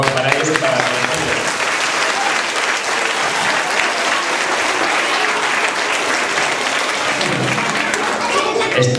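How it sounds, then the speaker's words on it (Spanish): Audience applause at an award ceremony for a school meteorology project, steady and sustained clapping from a sizable crowd filling the whole stretch, with some voices mixed in. "un aplauso por favor para ellos y para Concello."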